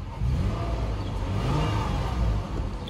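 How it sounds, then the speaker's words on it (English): A 2016 Toyota 4Runner SR5's 4.0-litre V6 starts and runs steadily at idle, a mid-pitched low continuous rumble with a slight rise in revs, close by with no talking. "You hear that 4-liter V6 come to life."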